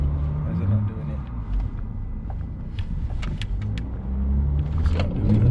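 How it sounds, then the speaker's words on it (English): An Audi A5 3.0 TDI quattro diesel on a dyno, held on the brake at full throttle for a launch attempt, sending out a steady low rumbling drone that swells near the end, with voices talking over it. "Foot hard on the brake, all the way down on throttle."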